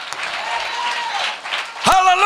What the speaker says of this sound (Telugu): Give him a clap offering this afternoon.